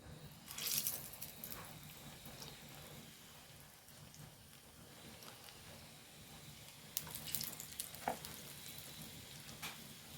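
Pakoda batter fries in a pan of hot oil with a steady, close crackling sizzle, and a few sharper spatters burst out near the start and again toward the end, with no voices.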